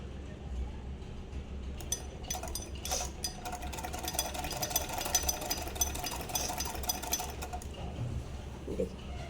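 A sewing machine stitching fabric, its light rapid mechanical chatter running steadily at low level while a voice talks over it.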